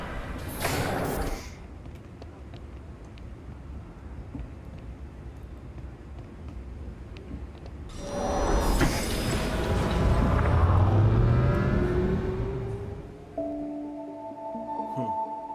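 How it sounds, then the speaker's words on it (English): Train in the Flashback 2 video game rushing past, a swelling roar that builds around the middle and fades, with a brief burst of noise at the start and tonal game sounds at the end. "That was the train."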